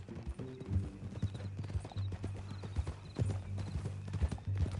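Horse hooves clop in a steady rhythm on hard ground, close by, with a horse's whinny rising partway through.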